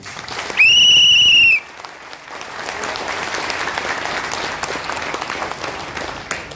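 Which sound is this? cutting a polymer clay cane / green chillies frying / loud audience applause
loud audience applause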